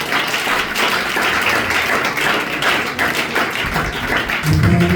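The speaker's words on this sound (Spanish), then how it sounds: "Otro aplauso," Church congregation applauding during a sermon, a steady wash of many hands clapping at close range, loud and continuous throughout.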